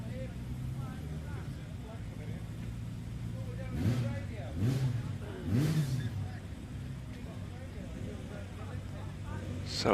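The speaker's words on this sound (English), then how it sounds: "Alan McFarlane in that Porsche Cayman S who sits on the start line waiting for the go, which he gets now" A Porsche Cayman S on the start line of a club hill climb at Prescott, engine rising through a few revs as it pulls away from a distant position, under continuous commentary from a man.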